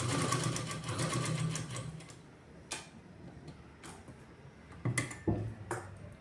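A sewing machine stitching a blouse button placket whirs in a steady run at close range, then stops, leaving scattered clicks and ticks of handling and repositioning the fabric.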